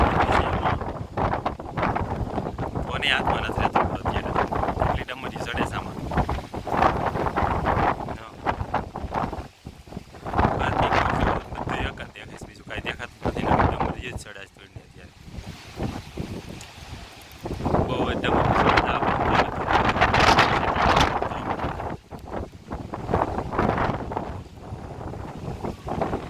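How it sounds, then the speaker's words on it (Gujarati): Strong gusty storm wind with dust squalls, in a village, buffets the microphone in loud, roaring bursts, rising and easing over time, with voices talking intermittently underneath. "પવન એટલો ફેંકે છે"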